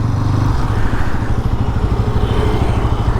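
A Yamaha MT-15 motorcycle engine has just started and settles into a fast, steady, throbbing idle. It is close and loud, with no voices.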